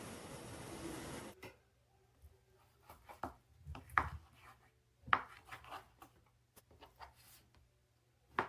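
A knife cuts through fish into pieces on a board, giving a string of close, separate cutting and tapping knocks with quiet gaps between them and no talking.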